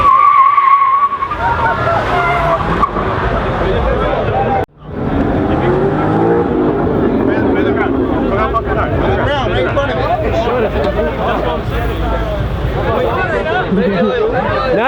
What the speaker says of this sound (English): He's putting chain lube on the floor and on his tires to make him do a burnout.